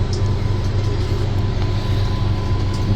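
Interior rumble of the Patna–Howrah Vande Bharat Express on the move near Durgapur, a steady low roar with faint rhythmic clatter, loud and constant with no speech.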